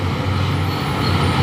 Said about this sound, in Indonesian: kol diesel nyalip